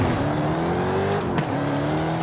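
Dodge Challenger SRT Demon, a high-horsepower rear-drive car with a supercharged 6.2-litre V8, accelerating in the Forza racing game, a steady loud engine note rising in pitch, dipping briefly at a gear change, then climbing again.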